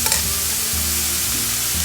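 Ingredients sautéed briefly in a pan until just wilted, while making egg paniyaram: a loud, continuous sizzle close up, with spatula stirring and scraping over it and no voices.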